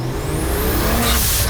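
Tuned BMW 335 engine revving hard under acceleration on a slightly wet road, a loud, continuous rising roar up close with strong low rumble and no talking.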